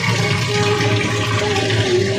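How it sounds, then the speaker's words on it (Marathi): Cold water running from a kitchen tap into a sink, a steady loud continuous rush with a faint tonal whine over it, alone and close. "खाली पाणी चालू कर गार."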